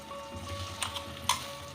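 Onion, garlic, ginger, tomato and chilli paste frying in a pan gives a soft, steady sizzle close by, broken by a few brief clicks and pops, with no talking.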